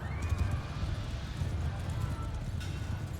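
In the Mount & Blade II Bannerlord battle, a horse's hooves drum in a fast gallop and a whinny rises over the din of the fight, while a voice urges it on.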